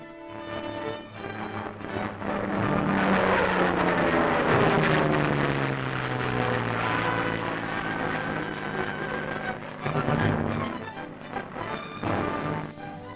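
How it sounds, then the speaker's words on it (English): A low-flying plane making a wartime air pickup of a man at about 130 miles an hour gives a sustained loud engine roar that rises and falls, heard alone without talk. "A steep climb by the plane at the moment of contact prevents any bumps."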